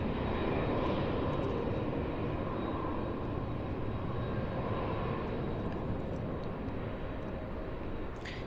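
An airliner arriving from Las Vegas at Louisville International Airport gives a steady, broad roar of jet noise, sustained and fairly distant, with no talk.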